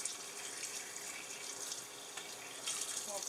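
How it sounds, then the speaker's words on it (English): Tap water runs steadily over drained canned red kidney beans being rinsed in an RV kitchen sink, a continuous close hiss and splash with no talking. "These have got to be drained and rinsed"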